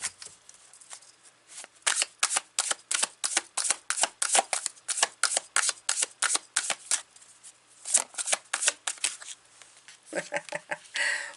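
A tarot deck is shuffled close by in a fast, rhythmic series of crisp card riffles and snaps, with a brief pause near the end before a final flurry.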